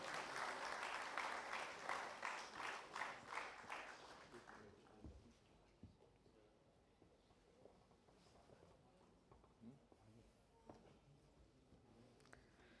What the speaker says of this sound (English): Can we hear a round of applause for him?